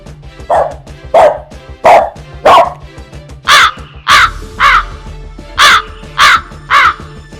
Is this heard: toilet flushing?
no